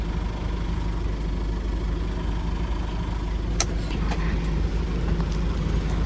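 A bus drives along a road in Sulawesi, its steady mid-pitched engine drone and road rumble continuous and close, with a few faint clicks and rattles from the cabin and no talk.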